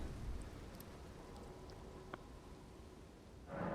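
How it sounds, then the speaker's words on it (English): Faint, steady rain falls in the video game Elden Ring, a soft, even hiss with no distinct drops, and a brief brighter sound swells at the very end. "It's still raining."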